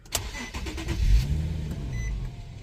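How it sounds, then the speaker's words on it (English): An Infiniti FX37/QX70 with 109k miles starts with a brief crank and catches, and the engine settles into a smooth, quiet idle close by, with no talking. "Let me turn on the motor."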